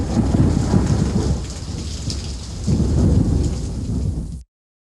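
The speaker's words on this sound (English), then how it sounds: "He slipped out of the house, alone, into the wild storm." A wild night thunderstorm rolls on with heavy, steady rain and two long, deep swells of rumbling thunder, loud and close, with no voices, before the sound cuts off to silence.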